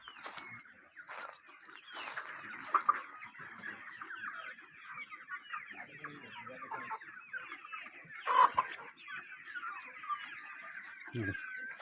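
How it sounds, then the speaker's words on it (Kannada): Native country chickens on a farm near T. Narasipura cluck and squawk continuously, a dense chorus of overlapping calls at moderate distance with a few louder close clucks standing out. "ನಾಟಿ ಕೋಳಿ ಫಾರ್ಮ್ ಇದು."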